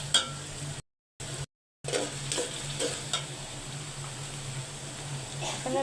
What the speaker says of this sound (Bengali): এখন এগুলো ভালো করে কষিয়ে নেব